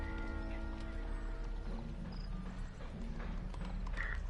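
Horse hooves clip-clop and a horse whinnies inside a Sherlock Holmes video game on PS4, set against a steady layered game soundtrack with sustained tones throughout.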